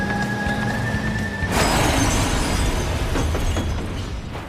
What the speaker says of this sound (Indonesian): Mobil Sky pun akhirnya meledak